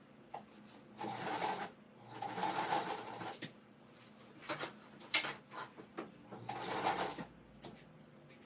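A sewing machine top stitches fabric in short bursts, whirring for a second or two at a time with pauses and small clicks between runs, fairly close and moderately loud.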